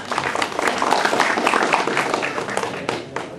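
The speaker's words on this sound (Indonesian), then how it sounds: "beri tepuk tangan" An audience claps steadily at an Islamic gathering event, a dense crowd applause that stays loud and even for several seconds before tapering slightly at the end.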